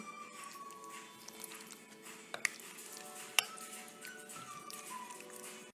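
A spoon mixes almond paste into a chicken marinade for malai boti, giving faint, scattered clinks against the bowl and soft squishing, with a few sharper taps.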